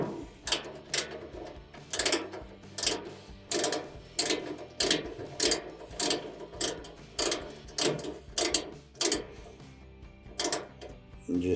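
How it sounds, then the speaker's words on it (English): Mini ratchet tightening a 1/4 inch screw during an Amana gas dryer repair: about a dozen evenly paced bursts of fast metallic clicking, one for each back-and-forth stroke, close and clear with short pauses between. "then we'll finish that off with our mini ratchet"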